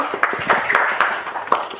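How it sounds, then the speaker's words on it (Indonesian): A small audience claps for special guests, the finalists of a university pageant, giving a brief burst of quick, close hand claps over a few seconds with a faint murmur of voices underneath. "ayo tepuk tangan dulu."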